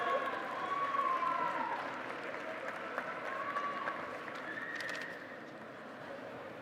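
An audience at the Virginia Tech fall 2016 university commencement ceremony applauds graduating candidates from the College of Liberal Arts and Human Sciences, a steady wash of many hands in a large hall with a faint whistle or cheer rising through.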